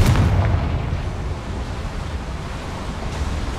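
A Confringo blasting spell explodes in the Hogwarts Legacy video game: a single heavy blast right at the start, fading into a long, rumbling, wash-like roar.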